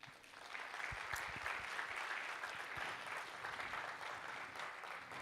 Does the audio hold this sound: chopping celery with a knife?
no